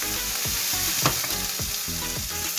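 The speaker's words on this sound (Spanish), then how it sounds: "Y sofreímos un poquito." Diced ham frying in a pan, a steady close sizzle with occasional stirring scrapes, continuous and alone without any voices.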